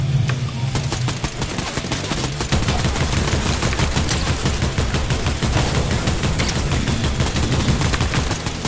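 Rapid, sustained gunfire rattles continuously in a war video game as shots hit a car, loud bursts of automatic fire with dense overlapping reports throughout.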